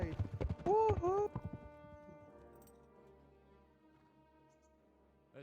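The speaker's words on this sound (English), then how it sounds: "Those horse sounds. Good god, they're loud." Horse from the medieval video game Kingdom Come: Deliverance, with a loud burst of hoof and harness sounds and a whinny-like call near the start, then a sustained game music drone trailing off.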